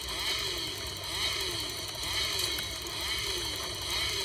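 Chainsaw in the Roblox game Zombie Rush runs steadily, a continuous buzzing, droning engine whine at constant loudness for several seconds with no talk over it.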